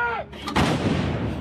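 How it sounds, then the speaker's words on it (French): French Army Caesar artillery cannon firing during a training exercise: after a brief tonal sweep, a single sharp, loud blast booms out and rolls into a long, rumbling echo. "Derrière chaque tir de canon César, l'arme phare de l'armée française, se cache un drone."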